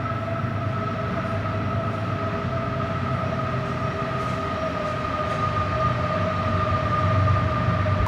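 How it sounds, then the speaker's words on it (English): A train passes by outdoors in a loud, continuous roar of rolling wheels with a steady high whine held throughout, close and unbroken, with no talking. "as we hear the train passing by"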